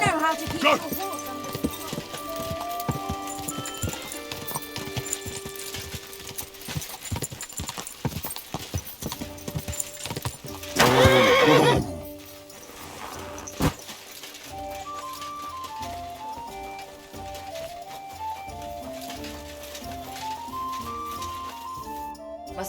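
Horse hooves clip-clopping in a steady rhythm in the video game Kingdom Come: Deliverance II, with a loud neigh in the middle, over soft in-game music.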